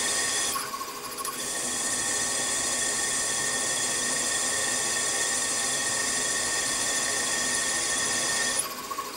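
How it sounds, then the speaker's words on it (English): A sharp cobalt drill bores through metal parts for a Stuart Models S50 steam engine build, producing a steady, loud grinding rasp that runs almost unbroken for about nine seconds with no talk. "Lovely sharp cobalt drill, this one."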